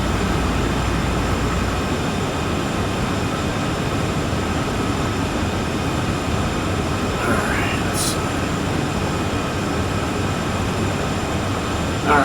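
Freight train in Train Sim World 4 climbing a long uphill grade out of Cheyenne, a steady loud rumble of locomotive and rolling cars throughout with no break.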